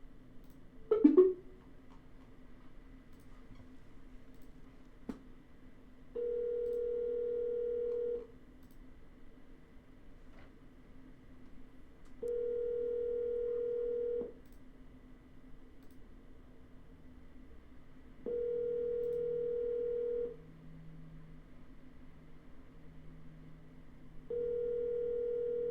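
An outbound phone call opens with a click, then a ringback tone sounds four times, each ring about two seconds long and roughly six seconds apart, clean and steady over faint line hiss.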